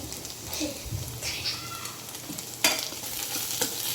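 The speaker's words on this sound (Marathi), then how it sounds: "आणि याला व्यवस्थित हलवून घेऊया 2 मिनटं" Radish leaf sabzi with garam masala and crushed peanut powder is stirred in a sizzling pan, with soft scraping spoon strokes and a sharp clack near the end over steady frying hiss. A faint voice is heard in the background.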